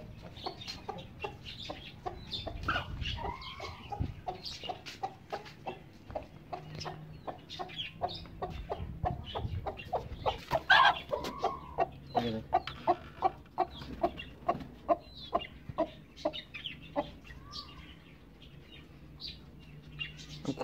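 A hen clucks over and over in a steady, close rhythm, with softer chirps and cackles from other fowl mixed in at a moderate level.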